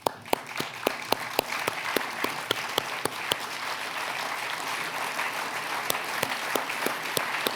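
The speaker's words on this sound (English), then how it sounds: "please join me in a warm round of applause" Audience applause for veterans at a formal ceremony, a sustained wash of clapping from a sizable crowd with several sharp, close individual claps punctuating it throughout.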